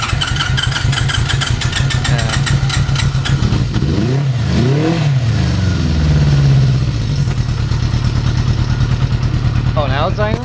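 Honda CB motorcycle engine, a CB360 or CB550 Super Sport with fouled plugs just fixed, runs at a steady loud idle and revs up briefly a couple of times, with people talking over it throughout.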